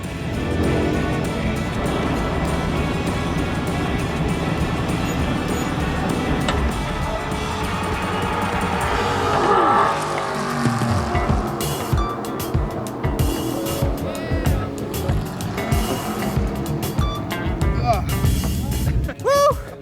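A NASCAR stock car at Auto Club Speedway roars with a loud onboard engine drone, then stutters in rapid choppy bursts as it bounces off the rev limiter.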